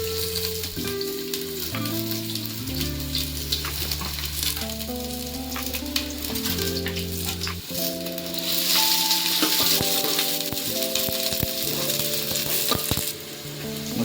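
Chopped onions and green chillies fry in a cup of oil for a village-style mutton curry, a steady close sizzle with stirring scrapes, alongside melodic background music.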